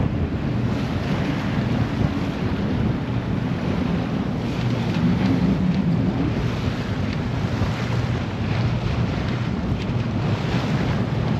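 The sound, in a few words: strong wind on a sailboat leaving the marina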